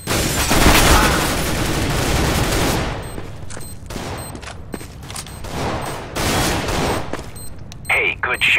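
Rapid bursts of gunfire from the online shooter game Demolition, loudest and densest at the start, then scattered shots with in-game noise to the end.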